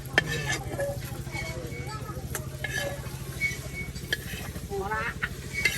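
Oil sizzles in a pan of frying pangasius fish while a utensil stirs and scrapes against metal, with occasional clinks and faint voices in the background.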